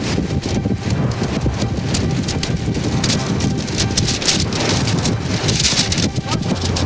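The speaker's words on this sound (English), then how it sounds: "Well, tornado on the ground. Behind the chase vehicle. Extreme wind." Extreme wind roars and buffets behind a storm chase vehicle as a tornado touches down nearby, a continuous loud, rough rush with gusty surges.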